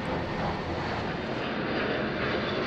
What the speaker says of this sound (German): Es kann ganz spannend sein, die Flugzeuge von so nahem betrachten zu können.